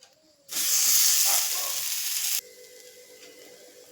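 Raw banana pieces fry in semolina, a loud broadband sizzle bursting in at once as the pieces hit the oil and holding steady for about two seconds before dropping to a quieter hiss, no talking.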